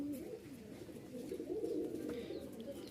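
Rajshahi colour-matching Giribaz pigeons cooing up close: a steady, soft, throaty warble that rolls on without a break.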